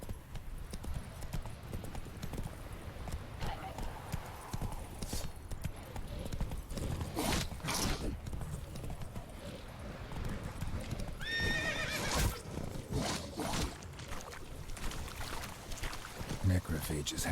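Roach, the horse in Witcher 3, gallops with rapid, steady hoofbeats and lets out loud neighs and whinnies, set against a busy backdrop of other game sounds.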